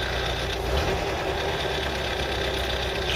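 A Ford Cortina MK3 estate with a worn, knackered engine idles steadily close by. The low, continuous mechanical rumble carries a faint rhythmic knock and no voices.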